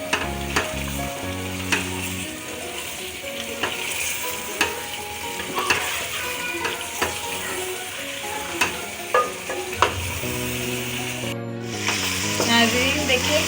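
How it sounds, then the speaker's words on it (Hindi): Aloo gosht with tomatoes and potatoes frying steadily in a pot, a continuous sizzle broken by sharp clinks and scrapes of a spoon stirring, with music playing underneath throughout. "अच्छी तरीके से भूनेंगे, हमारे टमाटर आलू भी गल जाएंगे अच्छी तरीके से।"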